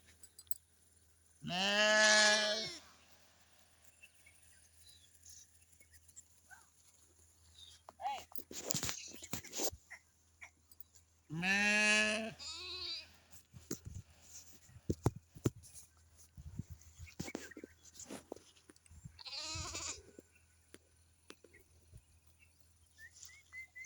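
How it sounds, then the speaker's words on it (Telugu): Sheep bleat near a watering spot where a flock has come to drink, with egrets around them: three loud, drawn-out bleats spaced several seconds apart, separated by quiet rustling and faint soft voices. "గొర్రెలు నీటికి వచ్చేసినాయి"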